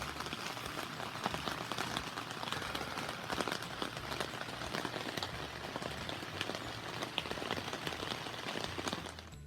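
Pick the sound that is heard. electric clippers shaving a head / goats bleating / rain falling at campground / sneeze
rain falling at campground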